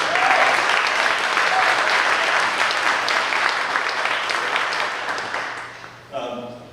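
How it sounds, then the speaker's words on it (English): Meeting audience gives a round of applause, full dense clapping that slowly thins and fades over several seconds before a speaker's voice begins at the end. "Why don't we give Stephanie a round of applause?"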